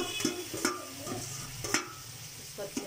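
A spoon stirs jackfruit curry in a pan: repeated scraping clanks against the metal come every half second or so, over a low, quiet sizzle.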